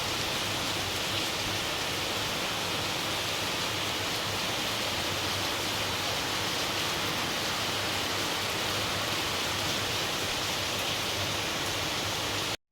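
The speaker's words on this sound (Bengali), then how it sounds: "শ্রাবণ মাসের প্রথম বৃষ্টি।" Steady, dense rainfall of the first Shravan monsoon shower hisses evenly and loudly throughout, a continuous broadband wash with no pauses and no voices.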